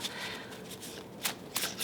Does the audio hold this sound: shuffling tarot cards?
yes